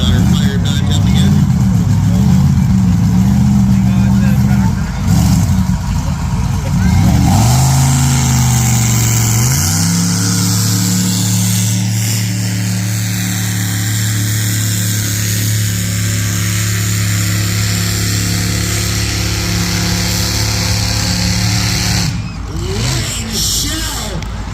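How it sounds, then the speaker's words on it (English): A supercharged small-block Chevy pulling-tractor engine running on alcohol drones loud and steady at close range, its pitch dipping and climbing through revs, with people talking over it. "Shell, small block Chevy, supercharged on alcohol."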